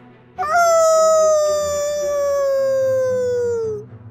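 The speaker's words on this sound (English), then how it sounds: "the man, now a werewolf, stands on its hind legs and lets out a final howl" A werewolf lets out a long, loud howl, rising sharply then holding a steady, slightly falling wail for about three seconds before cutting off, close and alone.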